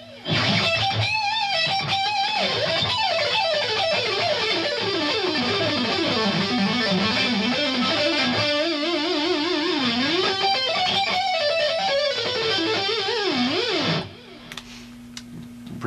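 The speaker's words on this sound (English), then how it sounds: "get real loud lead sound with chorus and echo on it" An electric guitar plays a loud, sustained lead line in a rock setting, its distorted tone thickened with chorus and trailed by echo, with fast bends and vibrato before cutting off near the end.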